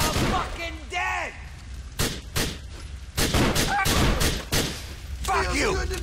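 Gunfire from a shootout in GTA 4 The Lost and Damned, a fusillade of sharp repeated shots and thuds, close and loud, with shouting voices mixed between the bursts.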